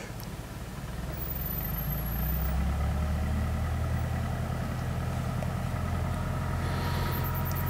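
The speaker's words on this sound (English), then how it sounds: "Oh, I see she started the tractor up over there." A farm tractor engine rumbles steadily at idle after starting up, a low continuous drone at moderate distance with no talking over it.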